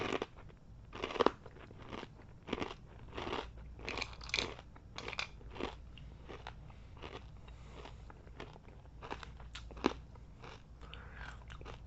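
Crunchy Japanese dried crabs (tamagogani) being chewed close to the mic, a quiet series of irregular crisp bites and crackling crunches with no talking.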